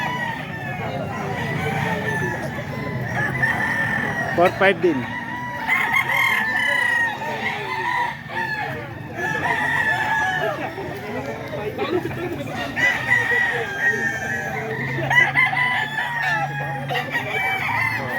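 Several roosters from a gamefowl flock crow again and again at close range, mixed with clucks, while people chat throughout.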